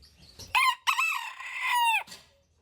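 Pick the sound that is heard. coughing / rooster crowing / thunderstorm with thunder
rooster crowing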